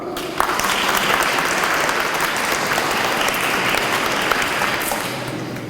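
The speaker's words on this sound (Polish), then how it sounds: "oczywiście brawa" Children and congregation at an Easter Monday church gathering with a bishop clap for a correct quiz answer, a sustained even round of applause that swells quickly and tapers slightly at the end.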